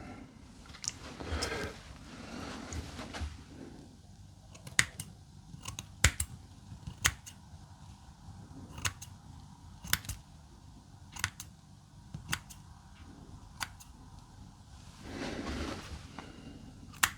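Barber's scissors snip at hair in a quiet barbershop, close up as a series of crisp, separate clicks at an irregular pace, with soft rustling between the cuts.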